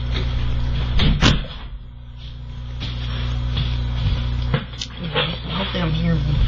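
An indoor door swings shut with a sharp knock and a short rattle, close by over a steady electrical hum, with a faint voice nearby.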